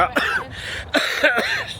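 Two or three harsh coughs ring out close by, separated by short pauses.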